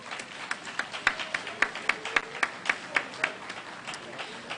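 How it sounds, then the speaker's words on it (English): A sparse round of applause from the audience at a candidates' forum for DC offices, with individual claps ringing out clearly in a loose rhythm, fairly faint, over a low murmur of voices. "Give these candidates a round of applause."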